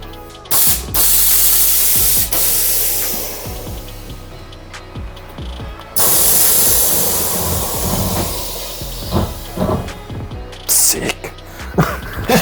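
Bursts of pressurized soapy water spray hiss loudly in several long blasts during a car air suspension leak test, separated by pauses filled with clunks and handling noises.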